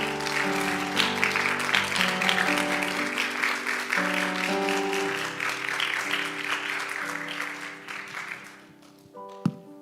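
A church audience gives a long round of applause welcoming a young missionary. Steady clapping is joined by sustained keyboard-like music, then both fade near the end before a single loud knock.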